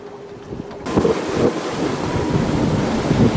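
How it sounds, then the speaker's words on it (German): A 30-knot wind roars across the microphone on a sailboat in the Sea of Cortez near La Paz, a loud, steady rushing gust with water sloshing beneath, starting abruptly after a quieter moment. "Es pfeift immer noch 30 Knoten Wind."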